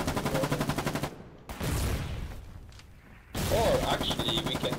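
Mortar and gunfire erupt in a combat video game, with rapid rhythmic bursts of loud shots cutting out briefly then returning, a whistling tone rising near the end.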